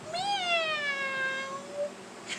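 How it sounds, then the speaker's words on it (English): A cat gives a single drawn-out meow with a rising then falling pitch, close and clear over a faint background hiss, followed by a short quiet stretch. "Meow."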